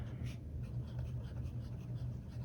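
A fountain pen with a fine Architect grind nib scratching across paper, making soft continuous strokes with a faint low background hum and no talking.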